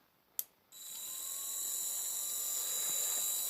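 A Parkside cordless rotary tool spins up after a brief click and runs steadily at slow speed, giving a thin, high, even whine that holds close and alone for several seconds.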